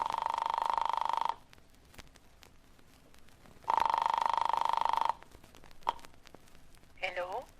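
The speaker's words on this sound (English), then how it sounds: "I flicked the telephone dial to the number in her note." A radio drama telephone effect: two long, loud electronic ringing bursts separated by a quiet gap, then a brief click and a short warbling dial-like tone at the end, with no voices over it.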